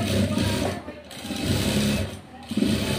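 Sewing machine stitching a blouse, a continuous mechanical whir that dips briefly twice, running under a voice talking.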